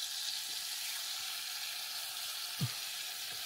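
A ribeye steak fries in a pan on a gas burner inside a VW T5 camper van, giving a steady, broad sizzle throughout with one soft knock near the end.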